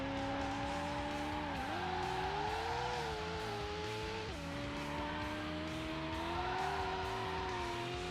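Cars race in Need for Speed: Hot Pursuit 2 on PS2, with a loud, continuous engine drone that rises and dips as the throttle is worked, and tire squeal mixed in, without talk.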